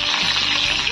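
Thick-cut green chillies hit hot ghee for an Indian tadka, giving a loud, continuous close sizzle and crackle with faint stirring scrapes.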